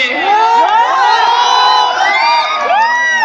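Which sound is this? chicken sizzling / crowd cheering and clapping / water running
crowd cheering and clapping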